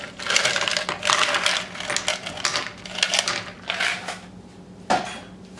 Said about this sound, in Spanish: Lo voy a mezclar y le voy a estar agregando un poco de hielo